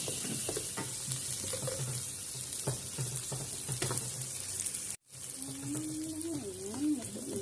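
Putay with dried fish fries in a pan, a steady close sizzle with scattered clinks and scraping stirs; after a brief gap the frying returns with a faint whistling tone over it.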